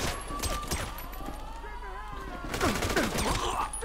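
Bursts of gunfire from Franklin shooting in GTA 5, a string of sharp shots with a heavier flurry near the end, set against steady game background sound.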